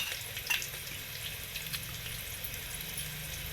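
Onion, garlic and chopped vegetables fry in a pan with a faint, steady sizzle and crackle, low and continuous with no talking.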